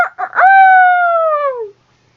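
A single loud, drawn-out rooster-like crow rises from a few rough, choppy notes into a long sustained call that slides downward and cuts off, heard alone and close.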